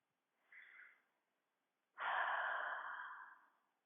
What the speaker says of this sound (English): Next, take a deep breath.